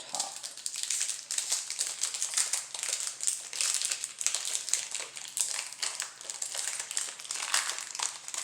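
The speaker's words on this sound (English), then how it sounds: "We'll just put the foil on the top." Continuous close, dense crinkling of foil wrapper from a trading card booster pack, crackling steadily with no pauses and no talking.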